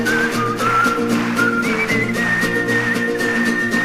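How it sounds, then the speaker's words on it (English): A bright whistled melody of sustained, gliding high notes carries over steady instrumental backing, loud and continuous without any talking. "there's a whistling bit, you can join in if you like."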